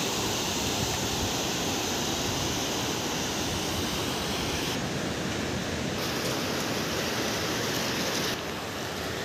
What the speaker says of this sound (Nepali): खोला चाहिँ ठुलो छ है यहाँको चिमखोलाको